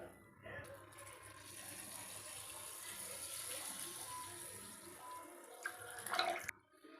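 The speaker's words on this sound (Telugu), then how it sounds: "ఒక చెమ్ము నీళ్ళు పోసాను" Water is poured from a vessel into a cooking pot holding soaked rice and packet milk, made for jaggery rice. A steady splashing pour runs for several seconds and ends in a brief louder burst.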